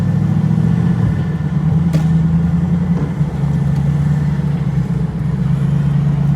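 A TVR Chimaera's engine drones steadily and loudly from inside the car on the road, a deep continuous rumble with slight shifts in pitch.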